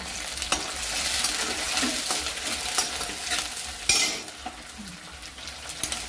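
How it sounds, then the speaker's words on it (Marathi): Diced potato fries with spices in hot oil tempering for a dry potato bhaji, a soft continuous sizzle broken by scraping stirs and light clinks of a spoon against the pan, with no talking. "आता आपण मसाले पण टाकून घ्यायचे सगळे मुलांतर छान असे फोडणीमध्ये छान परतून घ्यायचे"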